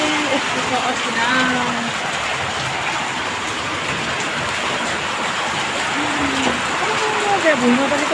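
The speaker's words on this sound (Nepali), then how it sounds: "है यस्तो छ असिना" Hail and rain pelt a courtyard, a steady dense patter lasting throughout, with a voice talking over it intermittently.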